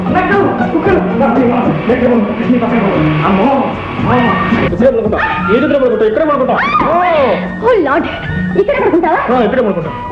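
A dog whimpers and yelps in rising, whining cries, close and loud, mixed with people talking throughout.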